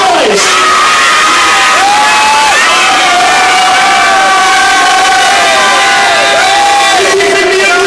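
A large crowd cheers and shouts loudly and continuously, with high whoops and screams rising over the roar throughout.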